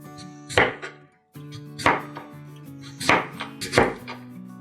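Potatoes being sliced with a knife, with four or five distinct cuts spaced about a second apart, each a crisp close stroke over a soft tonal background hum.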